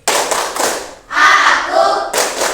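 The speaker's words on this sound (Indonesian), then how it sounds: "Tepuk konsentrasi." Classroom pupils clap a rhythmic concentration chant pattern together, sharp grouped claps in bursts separated by a short pause, loud and close, with a brief break in the middle of the pattern.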